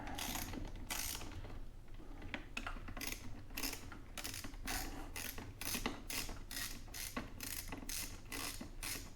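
A ratchet with a 1/4-inch drive socket works on a Poulan PL3314 chainsaw during a carburetor replacement, giving crisp rapid clicking in repeated bursts close by, alone without speech.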